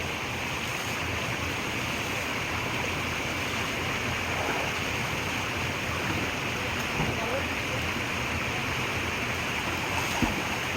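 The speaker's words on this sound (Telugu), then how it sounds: "అలలు కొట్టుకుంటా" Waves breaking and washing steadily along a shoreline where fishermen haul a net toward the edge, a continuous broadband surf roar with no distinct individual crashes, fairly loud and unbroken throughout.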